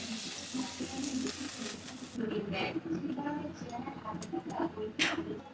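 Pointed gourd fries with salt in a pan, giving a steady, fairly close sizzle with stirring scrapes. A voice talks over part of it.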